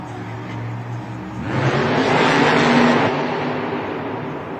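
Monster Mutt monster truck engine at a Monster Jam stadium event in Miami, a loud roar swelling as the truck revs and goes into a wheelie, then easing back to a broad rumble, no talk.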